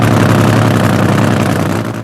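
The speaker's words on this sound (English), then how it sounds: "The big Chrysler bursts into life." A big Chrysler engine in a 1973 funny car drag racer rumbles loudly and steadily at idle, a dense low throb filling the whole moment up close without talk.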